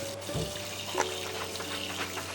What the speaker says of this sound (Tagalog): Hugasan ko lang saglit, hugasan lang.